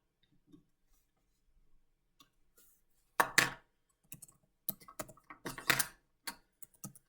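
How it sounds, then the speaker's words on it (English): Keys clack on a computer keyboard in short bursts of typing, fairly close and quiet, with pauses between clusters of taps in an otherwise quiet room. "Let me go ahead and type in my answer for Ladybug's line."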